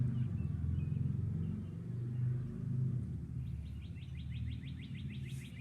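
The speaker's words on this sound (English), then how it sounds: "Can you guys hear some of the birds?" Spring birds chirp in quick repeated bursts, thin and fairly distant, over a steady low rumble of background noise; the calls grow clearer toward the end.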